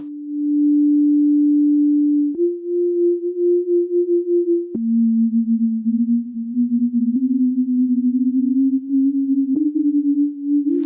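A steady tone from a Eurorack synthesizer wow effect module steps between pitches and then wavers slowly, its pitch wobbling unevenly up and down.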